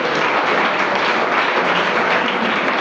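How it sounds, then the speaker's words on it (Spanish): Church congregation at a New Year vigil service breaks into strong, steady applause, a dense wash of many hands clapping close and loud with no talk over it. "Dese un fuerte aplauso por su transparencia."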